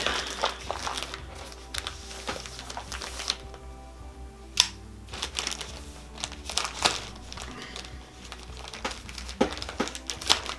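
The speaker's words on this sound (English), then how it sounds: "And it comes in a plastic bag." A plastic bag around a kids fishing pole, the ODDSPRO Bug Out Pole, is opened and handled, giving repeated close crinkles and sharp crackling bursts that come in irregular clusters.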